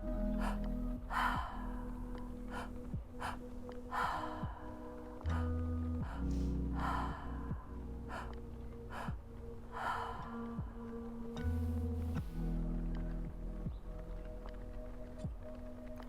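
Deep, slow breaths during a guided breathwork relaxation session, long drawn inhales and exhales repeating in a steady cycle, close and clear with a soft tonal drone beneath and no talking.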